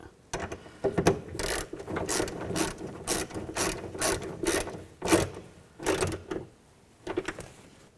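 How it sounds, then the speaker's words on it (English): A ratchet clicks in quick bursts, tightening nuts on the third brake light of a 2009-2017 Chevy Traverse. The bursts come close and crisp, with short pauses between them and no talk. "Now put the nuts back on and snug these down, not too tight."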